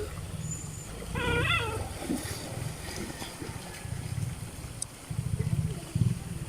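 Several dogs whimpering and whining while crossing a creek on a rainy day, with short high whines over a constant rush of flowing water and low splashing, fairly close and moderately loud.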